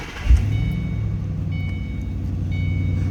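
A 2008 Ford Mustang Bullitt with a tuned exhaust cranks and fires up with a sharp burst, then settles into a deep, steady idle rumble, close by, while a few chimes ring out and nobody speaks.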